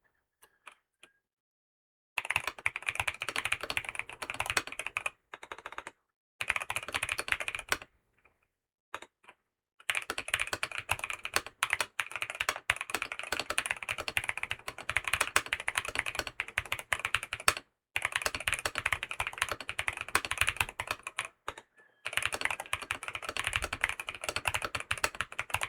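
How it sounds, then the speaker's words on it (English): Rapid typing on the keyboard of a BYOK writing device, dense close clicking in fast bursts separated by brief pauses, faint and without voices. "I'm trying to type as fast as I can,"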